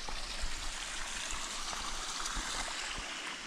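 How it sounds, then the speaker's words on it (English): A small mountain stream in the Great Smoky Mountains flows steadily with a soft continuous rush and trickle, close by and fairly quiet, with no talking. "And a nice little stream."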